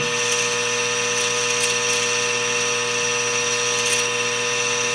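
A lathe cutting threads into a trumpet mouthpiece rim, giving a steady machine hum with sustained tonal whine, close and fairly loud, with a few faint ticks of the cutting tool and no speech.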